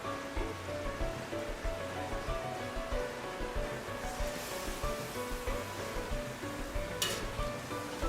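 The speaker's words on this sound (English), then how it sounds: "It's raining, and as you can see," Steady rain pattering outdoors, a continuous soft hiss with no voices, holding even throughout.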